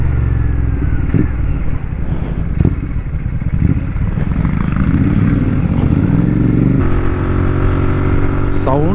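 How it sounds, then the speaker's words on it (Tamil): Engine note of a TVS Apache RR 310 twin-cylinder motorcycle on the move, a loud continuous rumble that rises and shifts as the bike accelerates, with a voice talking over it. "சும்மா இந்த வண்டி ஒரு 10 கிலோமீட்டருக்கு ஓட்டி பார்க்கலாம் எப்படி இருக்கு"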